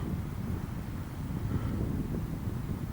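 Wind sweeps across the open Scottish hills near Stuc Gharbh, a steady rushing rumble that buffets the microphone continuously from start to finish, with no voices.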